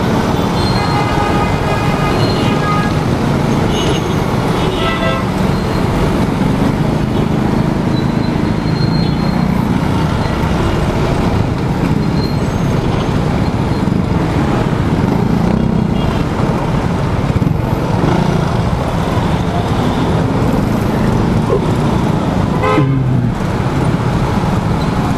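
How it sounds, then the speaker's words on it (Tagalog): Dense, heavy road traffic with a continuous loud roar of cars and buses, engine rumble and occasional horn toots, close and unbroken, with no talking. "Dito pala ang traffic."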